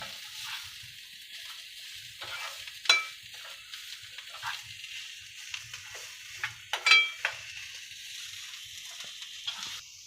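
Masala being stirred and mixed in a pan for karela fry, giving a soft, steady sizzle with intermittent scraping clicks of a spoon against the pan, close and fairly quiet, with no one talking.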